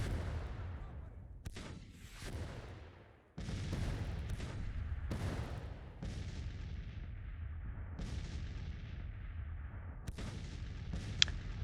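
An artillery battery bombards in the Grand Tactician: The Civil War game. Sharp cannon booms fire again and again about every second or two, some near and some distant, each with a rumbling tail and no clear speech.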